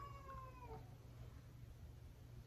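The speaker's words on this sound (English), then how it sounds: "I said no meowing right now." A cat meows once with a rising, drawn-out cry near the start, then only a low steady hum continues.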